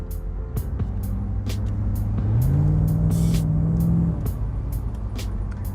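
A Jaguar XK8 V8 with its exhaust rumbles at a low idle, then swells into a smooth, sustained rev for about two seconds before settling back. Sharp clicks and knocks from nearby handling punctuate the steady engine note.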